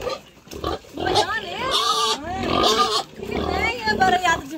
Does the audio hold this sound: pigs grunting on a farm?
yes